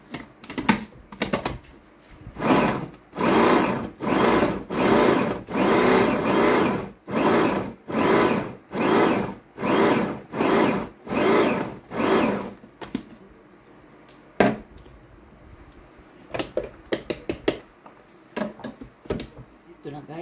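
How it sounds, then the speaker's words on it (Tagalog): Blender whirring through eggplant and carrot in a run of rapid, evenly spaced loud bursts, then quieter clicks and handling sounds toward the end. "Pagsama-samahin lang natin siyang i-blend."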